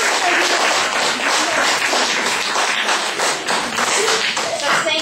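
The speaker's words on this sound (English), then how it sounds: "Let's give him a round of applause." Audience applause fills a church presentation, dense continuous clapping from a crowd, fairly close and loud throughout.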